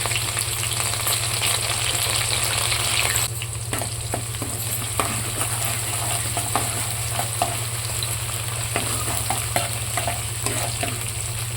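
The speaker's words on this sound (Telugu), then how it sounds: "ఉల్లిపాయల్ని వేయించుకోవాలి" Finely chopped onions frying in a pan with tempering spices, chilli and curry leaves for a fenugreek leaf and moong dal curry, a continuous close sizzle broken by scattered scraping stirs, with no voices.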